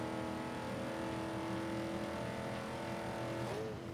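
A Buick GNX in Forza 5 revs hard under race conditions, a steady droning engine note with layered harmonics that holds, then drops sharply as the car downshifts near the end, with no voices.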